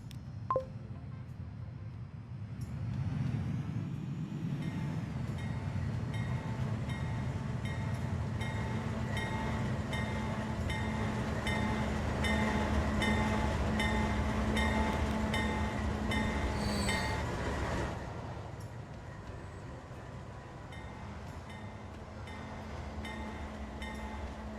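A train in the Transport Fever 2 video game runs on rails with a steady rumble and rhythmic clatter, with faint tonal beeps above it. The sound swells in the middle, then eases as it passes.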